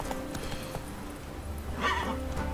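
Roach the horse in The Witcher 3 gives a short neigh over a steady bed of game ambience and faint hoof sounds, moderately loud and with no talk over it.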